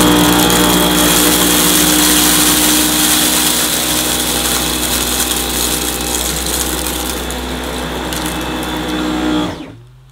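A Dyson V11 Absolute cordless vacuum runs steadily on its eco setting, a loud continuous motor whine with a rattling, gritty texture from coloured sand being picked up, holding for about nine seconds before winding down and cutting off.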